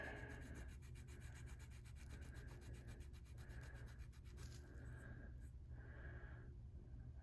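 An abrasive rubs gently and repeatedly over an estate tobacco pipe during cleanup, a faint, close scratchy scrubbing in even back-and-forth strokes that continues throughout with no talking.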